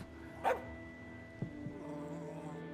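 A single dog bark from the As Dusk Falls video game rises out of a low, droning backdrop, followed by a faint thump and quieter rustling.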